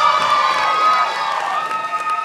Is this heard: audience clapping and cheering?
yes